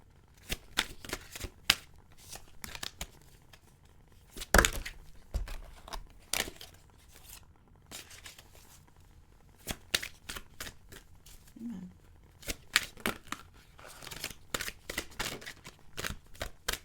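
Tarot cards are shuffled by hand in repeated quick riffling bursts with short pauses between, crisp and close, alone with no talking.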